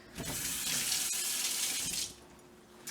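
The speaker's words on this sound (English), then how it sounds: "This one that you can see less, let me rinse it off" Tap water runs and splashes over a plastic milk frothing whisk being rinsed in a sink, a steady hiss for about two seconds before it cuts off.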